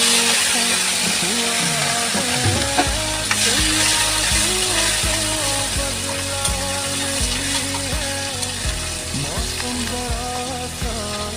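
Pond shrimp frying in hot oil in a wok give a steady, loud sizzle throughout, with occasional stirring scrapes and a background of ongoing music.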